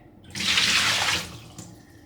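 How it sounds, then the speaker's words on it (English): Water from an iron water filter housing pours out in a single loud, splashing gush lasting about a second, then trails off into a few drips. "But if we dump the water out, you'll see what I mean."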